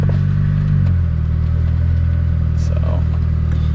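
An Acura RSX with a faulty transmission and missing second gear idles with a steady low engine hum, dipping slightly as the clutch is let out, then holding a constant drone.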